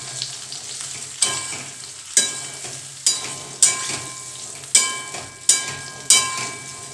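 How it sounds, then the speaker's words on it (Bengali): Jujubes tossed in oil in a kadai over a low flame: a steady soft sizzle with about seven sharp scraping stirs at a regular rhythm, close and clear, with no talking. "তেলটা ভালোভাবে মাখিয়ে নিয়ে আমি 2 মিনিট কড়ার মধ্যে কুলটা নেড়ে নেব"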